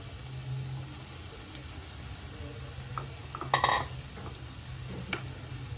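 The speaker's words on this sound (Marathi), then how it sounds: "आता आपण याच्यामध्ये भात टाकून घेऊया" Rice tipped into a pan of cooking vegetables for a veg paneer pulao and stirred in, giving a low steady sizzle with a brief burst of scraping and clatter midway and a few softer knocks after.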